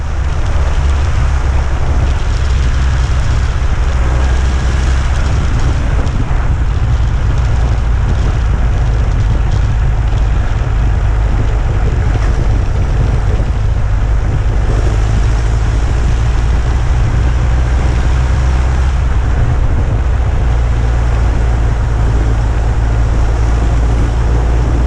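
A 1919 Henderson motorcycle ridden along wooded, hilly roads, with a steady loud engine drone and heavy wind rush throughout, no one talking.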